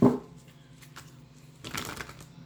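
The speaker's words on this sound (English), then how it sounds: "One more shuffle here." Tarot cards being shuffled by hand during a reading, a brisk riffle at the start followed by softer shuffling and a second flurry of card noise near the end, close and fairly quiet.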